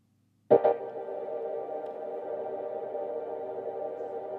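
A single bright synth chord stab, played on an AKAI Force for a dub techno track, hits sharply, then rings on in a long, lush reverb tail that hangs steadily without fading much.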